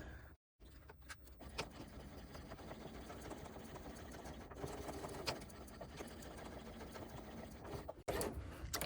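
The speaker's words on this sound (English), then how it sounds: "I'm going to sew up, back stitch, and sew back to the middle." A home sewing machine fitted with a zipper foot runs a quarter-inch seam on a crossbody bag, stitching steadily with a short back stitch, close and fairly loud, with one brief stop near the start and another near the end.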